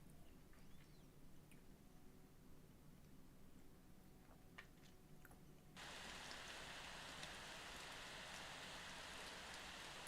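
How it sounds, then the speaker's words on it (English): Atmospheric rain in a fantasy RPG video game, starting abruptly as a steady broad rushing hiss that replaces quieter ticking sounds and carries on evenly to the end. "Some atmospheric rain comes in."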